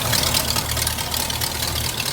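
A hearse's engine idles close by with a steady low rumble and a faint rhythmic pulsing, under a constant hissy wash of noise, alone and unchanging throughout.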